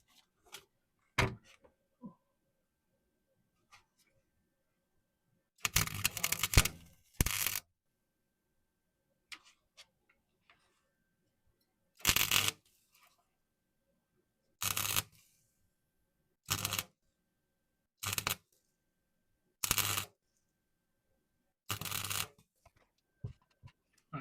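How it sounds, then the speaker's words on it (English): Welding on a rusty MGB car chassis, heard as a series of short, sharp crackling bursts spaced a few seconds apart, each a quick tack weld, with near silence between them. "but I can start welding her up now"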